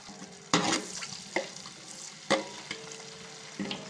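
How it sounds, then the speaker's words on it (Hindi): Onions frying in oil in a pot for chicken biryani, a close hiss punctuated by four irregular bursts of stirring and scraping. "ये मैं इसके अंदर ऑयल डाल रही हूँ। मैं इसके अंदर प्याज डाल रही हूँ"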